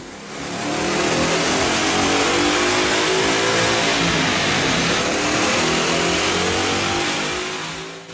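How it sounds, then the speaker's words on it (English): A 2011 Ford Mustang fitted with a BBK cold air intake revs hard on a dyno, one long, loud, sustained engine pull that builds, holds near full volume and tapers off at the end, with no talking. "Let's put the 1768 cold air induction system to the test on the dyno."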